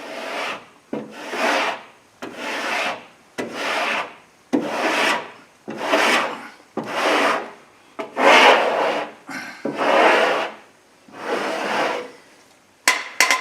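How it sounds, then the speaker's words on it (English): A 40-grit board sander is pushed by hand over spot putty on a car body, making a run of about a dozen long, rasping strokes with short pauses between them, close and fairly loud, with no voices. "I started putting a couple swipes on this with my 40 grit board sander"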